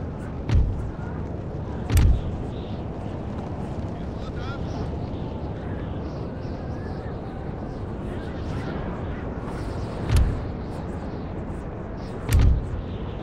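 Cannon artillery fire in the Napoleonic-era strategy game Napoleon Total War, four deep booming blasts spaced irregularly over a steady rumbling battlefield din, with a voice talking throughout.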